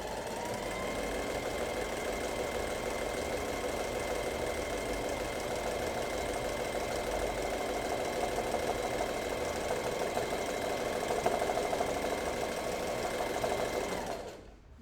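A sewing machine runs steadily for about fourteen seconds, zigzag free-motion stitching to fill a flower stem in an Art Nouveau embroidery. The motor's whir and rapid needle knock stay close and even, then stop abruptly at the end.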